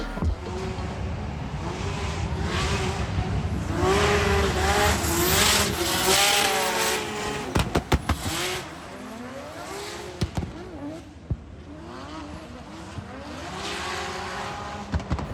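Drift cars run tandem practice laps at a Drift Masters GP round in Finland, engines droning and revving up and down with rising and falling pitch, tires squealing and several sharp bangs, loud and without talk.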